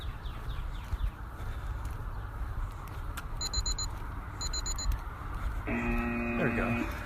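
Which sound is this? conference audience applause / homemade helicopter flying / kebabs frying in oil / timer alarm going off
timer alarm going off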